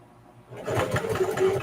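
A sewing machine worked slowly by its hand wheel while sewing a quilted zipper pouch, giving a soft, close mechanical whir with a light rhythmic ticking that starts partway through and stays steady.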